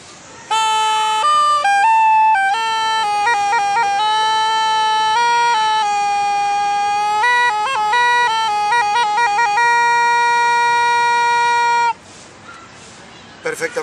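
A simple ancient reed (cane) instrument plays loud, sustained solo notes, shifting and stepping between pitches for about eleven seconds before stopping abruptly, with no one speaking.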